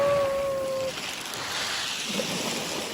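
Sea water washing in on Folkestone beach, a steady broadband wash of surf with wind buffeting the microphone, continuous and fairly close throughout, with a faint tone at the start and no talk.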